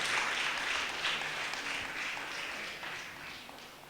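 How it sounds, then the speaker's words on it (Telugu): Church jubilee audience clapping to welcome a sister, a dense steady wash of applause from a crowd that slowly thins toward the end. "అందరం కూడా చప్పట్లు కొడుతూ సిస్టర్ గారిని ఆహ్వానించుదాం."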